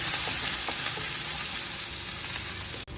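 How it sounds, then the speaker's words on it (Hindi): Ginger garlic paste and green chillies roasting in a little oil in a pan, giving a steady, close sizzle that runs unbroken with a brief dip near the end. "1 टीस्पून जितनी मैंने अदरक लहसुन का पेस्ट और थोड़ी सी सब्ज मिर्च ली है, इसको हल्का सा हम भून लेंगे।"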